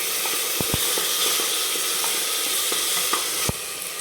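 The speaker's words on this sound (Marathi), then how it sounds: "ती 1 चमचा टाकते आणि याला पण चांगलं फ्राय करून घेणार आहे" Green chili, ginger, garlic and coriander paste frying in a pan, a loud steady sizzle with several sharp spattering pops and light crackles.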